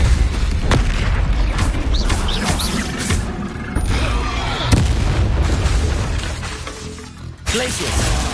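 Depulso force-push spell cast in the video game Hogwarts Legacy, heard as a series of heavy booming blasts and impacts amid ongoing combat effects, loud and punchy with sharp bursts.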